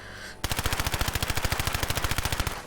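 A modded full-auto weapon firing in Fallout 4, a rapid, evenly spaced burst of roughly thirty loud shots in quick succession, close and without other sound.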